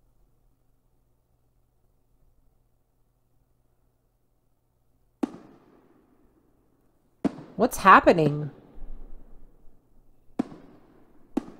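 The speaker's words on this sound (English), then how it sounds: "Oh, it's fireworks." Fireworks bursting in the Piggy Book 2 Chapter 8 ship level of a video game: sharp isolated cracks, then a dense crackling cluster of bangs, then more single pops, with a brief spoken question in between.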